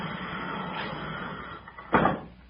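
A door opening in a radio drama, a soft creak followed by a louder dull knock or latch sound near the end, heard faintly against a muffled room background.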